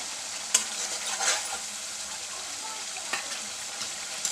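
Fried okra masala being stirred in a pan, with soft scraping strokes and a light sizzle plus a couple of sharp clinks of the spoon, no voices.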